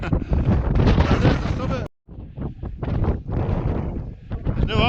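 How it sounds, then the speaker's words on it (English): Strong wind roars across a mountain summit near Marchlyn in North Wales, buffeting the microphone in loud, continuous gusts with one brief dropout midway. "you won't hear anything I say because of the wind"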